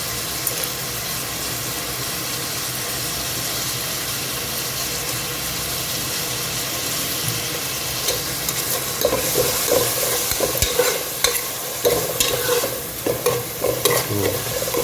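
Whole spices such as star anise and cardamom frying in hot oil for a beef biryani, a steady continuous sizzle with occasional stirring clatter growing busier toward the end, close and fairly loud with no talking.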